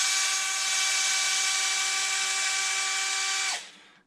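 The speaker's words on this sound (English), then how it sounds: "All we're going to do is remove these 4 screws." A cordless power drill spins steadily with a tonal whine for about three and a half seconds while backing screws out of an Arrma RC truck, then winds down to a stop.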